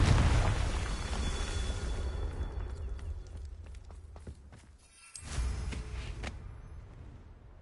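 A Confringo spell explosion in Hogwarts Legacy: a heavy booming burst that rumbles and fades over several seconds, then a second sharp blast followed by scattered debris and footsteps.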